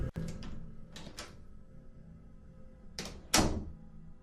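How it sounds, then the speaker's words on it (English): Bathroom door in a Chick-fil-A restaurant, a sharp knock or latch click followed by a few scattered bumps, then a louder double clunk later as the door moves, all heard close and clear with no talking. "the bathroom door opens"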